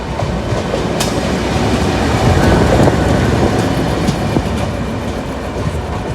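A GU20 diesel locomotive, number 4565, runs along a loop line in Pakistan to couple onto the Green Line Express, giving a steady loud rolling rumble with rhythmic wheel clatter over rail joints.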